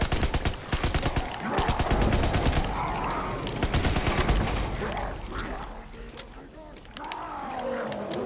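Zombies swarming in Call of Duty: WWII Nazi Zombies, with a dense, continuous wall of guttural growls and snarls close around the player, mixed with bursts of gunfire throughout.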